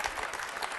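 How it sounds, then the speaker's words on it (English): Scattered light applause from a small audience, a brief thin patter of a few hands clapping. "Thank you for that smattering of applause"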